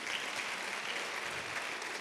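A church congregation claps at a gospel concert, a steady wash of applause sustained evenly throughout, heard at a moderate distance with no talking over it.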